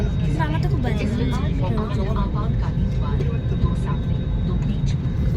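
An airplane takes off with a loud, continuous low engine rumble that fills the whole clip. People talk over the roar from inside the cabin.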